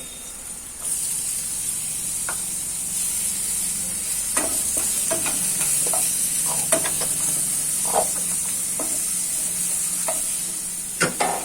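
Grated ginger and minced garlic fry in hot oil with a continuous sizzling hiss, broken by scattered spoon scrapes and taps against the pan, close and fairly loud.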